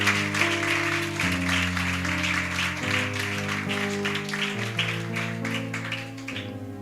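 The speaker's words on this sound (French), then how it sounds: "Est-ce qu'on peut acclamer pour la parole de Dieu?" A church congregation claps and cheers, with a broad, steady wash of applause over sustained keyboard chords that carry on throughout.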